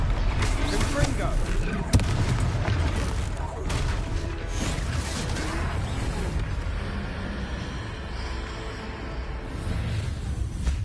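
Dense, continuous booming and crackling from Confringo blasting-spell explosions during a troll fight in Hogwarts Legacy, with one sharper hit early on, loud throughout and mixed with game voices and shouting.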